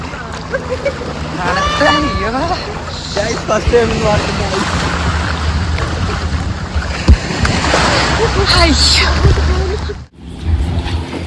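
A boat on the open sea off Krabi, Thailand, with wind, lapping waves and a steady engine rumble running throughout, while people talk over it nearby.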